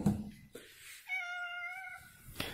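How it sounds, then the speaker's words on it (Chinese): A cat meows once, close and fairly quiet, a clear drawn-out call asking for food, with soft handling noise before and after. "很少叫的，为什么现在就跟我喵喵啊？"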